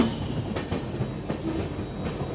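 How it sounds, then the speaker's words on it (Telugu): A Bhagyanagar Express passenger train rolls from the outer line onto the main track near Secunderabad, its wagons giving a steady clickety-clack rumble with regular wheel beats, heard up close from on board. "మన ట్రైన్ అయితే అవుటర్లోంచి మెయిన్ ట్రాక్లోకి అయితే వచ్చేస్తుంది"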